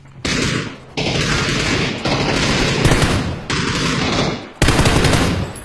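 Rapid bursts of automatic gunfire in a multi-floor combat shooter game, loud and close, fired in several sustained volleys separated by brief pauses.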